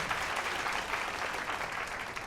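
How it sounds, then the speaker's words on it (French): A crowd claps warmly to encourage a female contestant on a fashion competition stage, a continuous broadband patter of many hands at an even level from start to finish. "Des applaudissements pour elle, on l'encourage."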